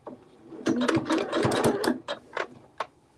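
A sewing machine stitches a quilt in rapid bursts, a loud mechanical chatter of needle strokes broken by short pauses, near and alone without talk.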